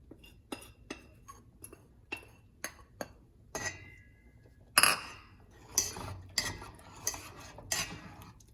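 Spoon stirring pearl millet porridge in a metal pot, heard as a steady series of close clinks and scrapes against the pot that grow busier and louder toward the end, with no talk.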